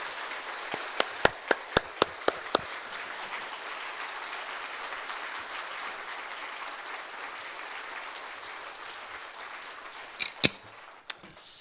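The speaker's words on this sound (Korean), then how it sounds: "나오실 때 우리 뜨거운 박수로 환영하겠습니다" A church congregation at a Friday worship service claps to welcome a visiting pastor: a few sharp separate claps at first, then a soft, steady wash of applause that swells briefly near the end before trailing off.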